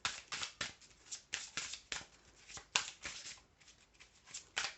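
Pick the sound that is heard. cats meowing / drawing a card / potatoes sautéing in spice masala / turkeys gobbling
drawing a card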